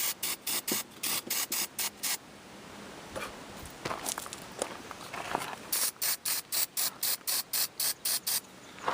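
A spray can of lubricant is squirted onto the throttle cables of a Troy Bilt Pony riding mower near the carburetor in a series of short, regular close bursts, with quieter clicking and handling noises in between.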